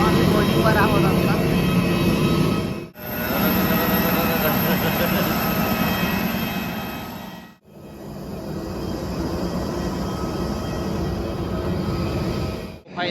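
Steady loud jet aircraft roar at Delhi airport, a continuous broadband rumble filling the scene with two brief dips, heard up close with no clear talk over it.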